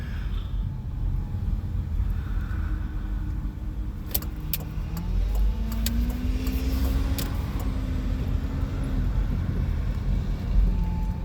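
A vehicle rolls by on a coastal Oregon road, a steady broad motor and tire rumble mixed with wind buffeting the microphone, with a few faint clicks partway through.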